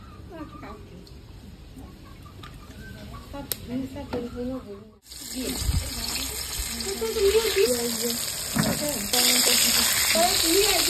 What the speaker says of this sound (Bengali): মাছ ভাজার জন্য তেলটা দিয়ে দেবো, সরষের তেল